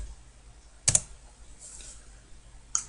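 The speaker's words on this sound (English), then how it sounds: "Left click." A computer mouse gives a sharp, close left click, then a fainter second click near the end, against a quiet background hiss.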